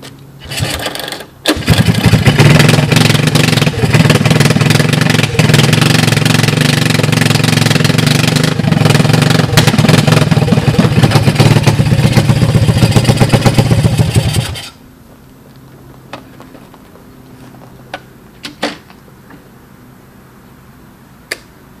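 A 1982 Honda ATC200 three-wheeler fires up after a brief cough and runs loud and close with a steady engine roar for about thirteen seconds, then shuts off, leaving faint clicks and quiet.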